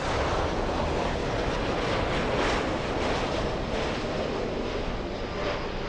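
A Lufthansa Boeing 747 airliner at Los Angeles International Airport produces a continuous broad engine roar, loud and steady for the whole stretch with slight swells, no voices over it.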